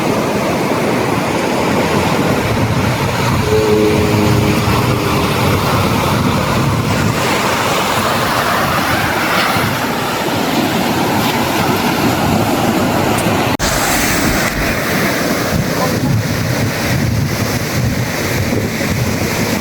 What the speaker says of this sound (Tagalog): Tayo ay lumapit sa alon